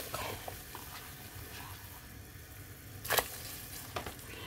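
A pot of chicken soup with barley bubbles and simmers steadily, with a brief louder clatter partway through and a few soft knocks.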